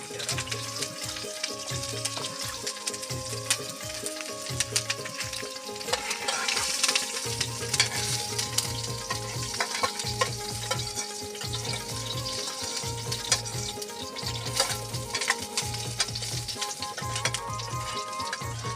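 Garlic and green chili sizzle steadily in a large amount of hot oil, cooked outdoors on a fishing trip, with a continuous loud crackling hiss throughout and no talking.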